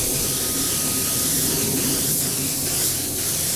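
Outdoor spray painting of motorcycle mirrors on a windy day, a loud, steady aerosol hiss running continuously and close without a break.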